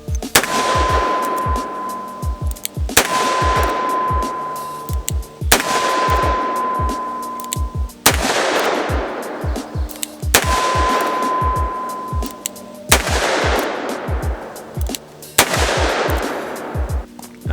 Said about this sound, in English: Let's take 7 more shots.